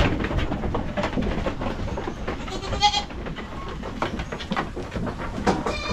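Goats bleat on a Philippine backyard farm, one loud nasal cry near the middle rising above a dense, rumbling wash of farm noise and movement that continues throughout.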